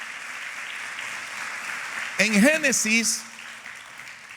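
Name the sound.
church congregation applause of celebration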